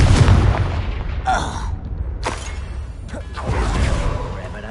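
A Confringo blast spell cast in the Hogwarts Legacy video game, bursting with a rumbling boom and whooshing bursts, several sharp flares in a row over dense game sound.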